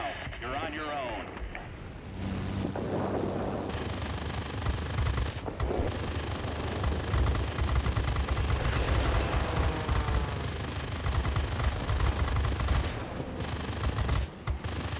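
Enemy aircraft machine guns rattle in dense, sustained bursts during a World of Warplanes dogfight, loud and continuous over engine drone, with someone talking throughout.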